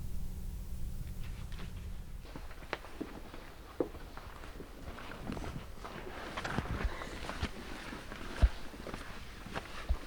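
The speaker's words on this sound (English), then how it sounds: "That's footsteps." Footsteps in a library, a steady scatter of soft treads with a few sharper knocks over a low indoor hum, fairly faint and without speech.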